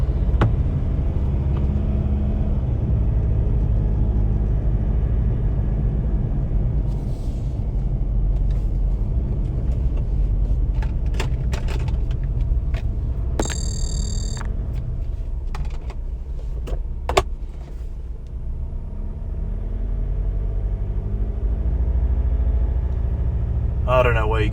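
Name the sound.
Ford Ranger Raptor diesel driving on cobbles, cabin noise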